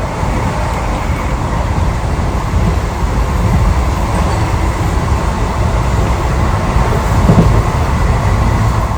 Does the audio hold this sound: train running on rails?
yes